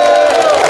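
Crowd cheering and shouting at a Sinan County glass-eel fishers' family festival, a loud, dense wall of voices sustained through a brief burst.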